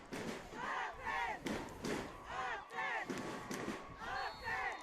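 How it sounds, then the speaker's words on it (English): The Windsor crowd across the field at a Windsor vs Sidney football game chants and cheers in loud, rhythmic group bursts, repeating roughly every second, with no voice speaking over it. "You can hear the Windsor crowd on the opposite side making some noise"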